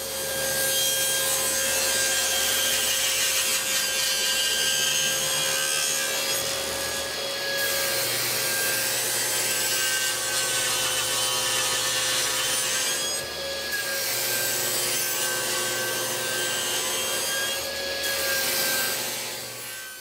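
A saw cuts through a wood board, ripping it into strips about 1 inch thick, with a loud, steady rasping drone that dips briefly between passes and carries on with no talk.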